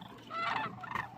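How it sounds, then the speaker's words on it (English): Birds at the Whitewater Draw wildlife reserve call as a massed flock, a faint, distant gabble of overlapping honking cries swelling twice in quick succession. "All that right there, that's not rocks. That's birds."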